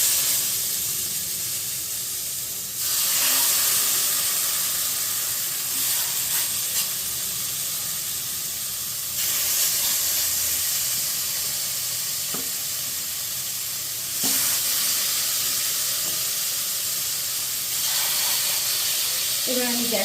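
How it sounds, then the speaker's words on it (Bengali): Chicken pieces sizzling in butter in a kadai, a loud steady frying hiss with a few brief surges as pieces go in, no talking. "এবার একটা একটা করে আমি চিকেন এখানে দিয়ে দেবো।"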